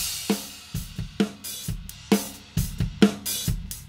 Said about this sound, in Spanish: Este es el overhead en crudo.